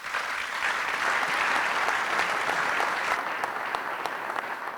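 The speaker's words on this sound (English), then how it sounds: "A warm round of applause" Warm applause from an audience at a 30th anniversary celebration, a full steady round of clapping filling the room at even strength for several seconds before easing slightly.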